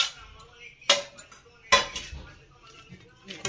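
Utensil scraping and clinking in a pan while mixing dry fruits for a sesame, jaggery and mawa roll, with two sharper metallic knocks among soft stirring rustles, close and moderately loud.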